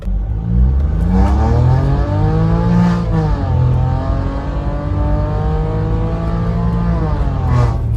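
A VW Polo GT TSI 1.0 with a stage 2 burble remap accelerates hard from a standstill to 90, with loud, close engine notes climbing through several gears and short dips at each shift.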